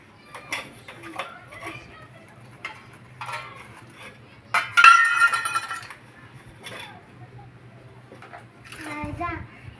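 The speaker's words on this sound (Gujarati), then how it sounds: "જો અત્યારે હું વાસણ ઉટકું છું" A young girl washes pots and utensils, with light clinks and scrapes of metal dishware and water at moderate distance, mixed with her chatter throughout.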